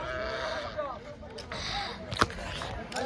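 Sheep bleat at a busy livestock market amid people talking, with a few short calls rising over the crowd murmur and one sharper sound near the middle.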